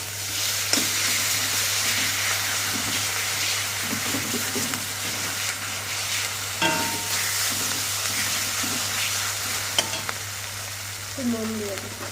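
Food frying and being stirred in a pan in a home kitchen: a steady, dense sizzle runs throughout with occasional scrapes and clinks of the spatula, and no talking.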